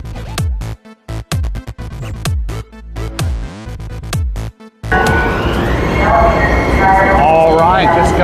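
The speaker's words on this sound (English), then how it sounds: "just got off the Metro train from the airport" A Miami Metro train from the airport rumbles and clatters, with pulsing wheel and motor sounds giving way to a louder, sustained roar with rising whine and squeal; a voice speaks over it.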